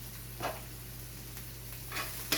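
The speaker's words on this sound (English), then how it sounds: "So now these are going to be my fried burnt squash." Burnt squash frying in a pan gives a soft, steady sizzle with a few faint clicks and stirring sounds. It stays quiet and close, and nobody talks.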